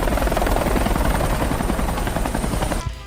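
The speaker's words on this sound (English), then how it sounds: "we literally needed to arrive with a helicopter." A helicopter arrives over isolated forest, its steady thudding rotor and engine roar loud and close throughout, then cutting away abruptly near the end.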